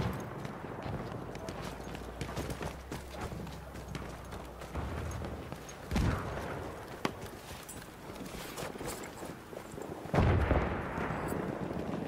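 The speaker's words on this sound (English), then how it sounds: "That's an enemy shot too." Enemy gunshots in Battlefield 1 during cavalry play on Fao Fortress, a few sharp cracks standing out over a busy battlefield bed of hoofbeats and distant fire, with talk mixed in.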